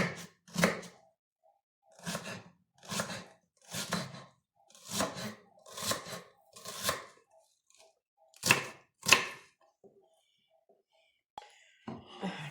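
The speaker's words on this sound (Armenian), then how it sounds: "սոխը կտրատենք" A knife chops an onion on a board in about ten distinct, evenly spaced strokes, fairly quiet and close, with brief pauses between the cuts.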